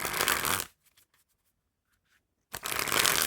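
A Red Team Canada deck of stiff playing cards gets shuffled close up: two dense riffling bursts separated by a brief near-silent pause with faint card handling.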